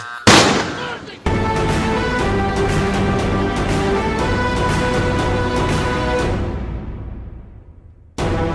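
A sharp loud blast opens, followed by a sustained roaring burst of rapid gunfire that fades out before another hit at the end.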